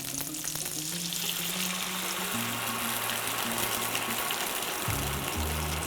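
Water poured into a hot pan of frozen dumplings with a cornstarch slurry, a steady loud sizzle and hiss throughout, with a brief splashing pour and a low tonal hum underneath.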